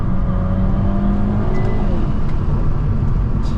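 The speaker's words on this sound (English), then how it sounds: "Watch this downshift." Hyundai Veloster N with a DCT gearbox, engine droning and revving steadily through a downshift, heard loud and close from inside the cabin with a continuous low rumble.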